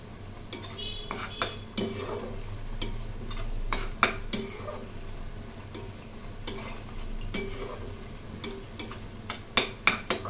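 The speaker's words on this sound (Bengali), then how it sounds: "এই মশলা খুব ভালো করে কষিয়ে নেব।" A masala paste of onion, garlic, ginger, chilli and tomato, with salt and turmeric, is stirred in a pan; close metallic clinks and scrapes of the spoon repeat irregularly over a faint sizzle, with no voices.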